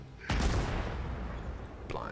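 A warship's gun firing in the naval game World of Warships, a single heavy boom with a rumbling tail and a second fainter report at the end.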